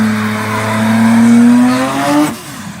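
Car doing a burnout, rear tires spinning and squealing in a loud, sustained tonal screech whose pitch slowly rises, then cuts off abruptly near the end as the wheels grip.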